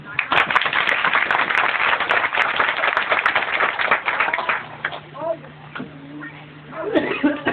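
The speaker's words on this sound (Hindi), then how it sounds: "जोर से ताली बजाइए।" Congregation at a church sermon clapping loudly in a dense burst for several seconds, then thinning out as a voice resumes speaking over scattered claps.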